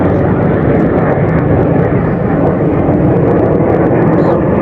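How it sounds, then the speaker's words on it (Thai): A formation of three training airplanes passes overhead, producing a continuous loud, broad engine drone that stays near and steady throughout, with no speech. "เครื่องบินมาเป็นฝูงเลยพี่น้องจ๊ะ"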